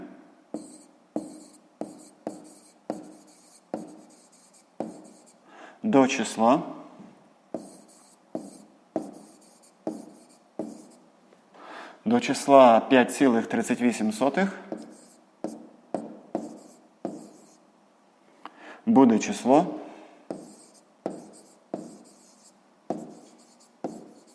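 Pen strokes tap and scratch on paper in a regular rhythm while a maths answer is written down. The sounds are close and soft, with short bursts of speech interrupting them.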